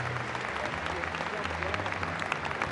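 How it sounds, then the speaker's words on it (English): Stadium crowd at a rugby league match in Perpignan applauding steadily, dense sustained clapping from many hands filling the space at an even level. "And that's the applause in Perpignan"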